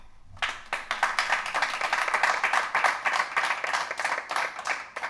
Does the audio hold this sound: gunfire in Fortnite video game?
no